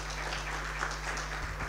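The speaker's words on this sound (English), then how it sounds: "A round of applause." An audience at a health sciences research day session claps in a brief, even burst of applause, steady throughout with no voices on top.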